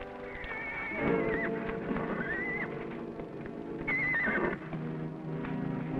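A stallion whinnies in two long, shrill neighs, with hooves clip-clopping steadily underneath; the horse sounds close and fairly loud throughout.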